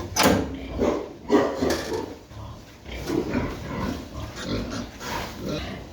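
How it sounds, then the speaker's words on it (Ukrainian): Pigs on a small farm, a stout white sow and a spotted young boar, grunt and snuffle close by in a rough, continuous series of low snorts, with occasional clatter in the background. "там біленька, свинка, здоровенька така, і рябий кабанчик"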